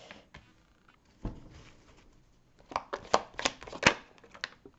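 Tarot cards being shuffled for a reading, soft scattered flicks at first, then a close run of quick riffling snaps and slaps, no talking.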